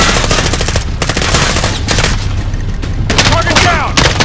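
Machine gun fire in Call of Duty Modern Warfare (2019): loud, close rapid automatic bursts in several volleys, with brief gaps between them and shouted voices mixed in.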